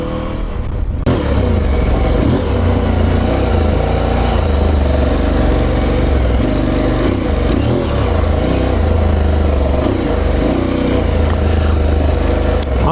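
An Aprilia Tuareg Rally motorcycle rides off-road on STR tyres, its engine revving loudly and unevenly in stuttering bursts as the traction control cuts in, close and continuous under wind noise.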